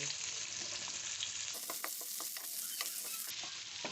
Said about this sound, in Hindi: ये देखिए प्याज फ्राई हो रहा है